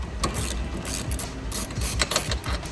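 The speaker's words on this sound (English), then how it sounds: "Using a 22mm socket on a ratchet, simply loosen the bolt." A ratchet fitted with a 22mm socket loosens the pedal bolt on a bike, its pawl clicking in a loud, close, steady rhythm of repeated strokes with no talking.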